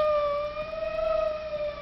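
A wailing emergency siren, likely an ambulance's, holds steady tones close by and fairly loud for a couple of seconds with no talk over it.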